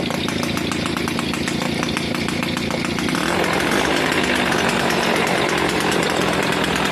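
An original 1977 Peugeot 103 moped engine runs close by, first with a rapid buzzing two-stroke pulse, then settling into a denser, louder, steady whine for the rest of the clip.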